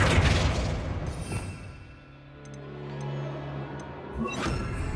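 Casting the Flipendo spell in Hogwarts Legacy sets off a booming magical impact up front, followed by a fading rumble and a second thump near the end.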